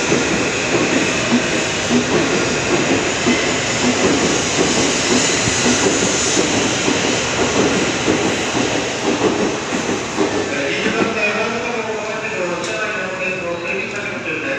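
Shinkansen bullet train pulling into a platform at a station in Japan, with a steady loud rumble and wheel clatter running throughout, fading slightly near the end, over a busy platform with people speaking.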